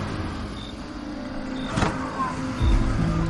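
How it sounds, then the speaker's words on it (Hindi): A car brakes hard as a sound effect in a spoken horror story, a short burst of tire and vehicle noise rising briefly amid steady road rumble, fairly close and with no talk over it. "जोर से ब्रेक मारता है"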